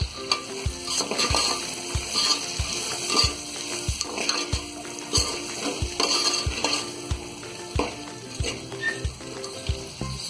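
Peas and soya pulao masala frying in a pan while a spoon stirs steadily, giving a constant sizzle broken by regular scraping knocks of the utensil against the pan, close and fairly loud.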